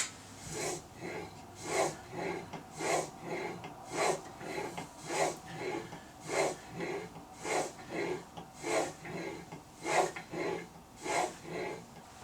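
A blade is sharpened on 2500 grit sandpaper in steady back-and-forth strokes, each a close, soft rasp about every 0.7 seconds, repeated some sixteen times with no talk.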